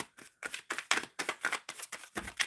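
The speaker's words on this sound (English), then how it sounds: "Shuffling for Anjana." Tarot cards being shuffled by hand, about ten quick crisp riffling bursts in a steady rhythm, close and fairly quiet with no talking over them.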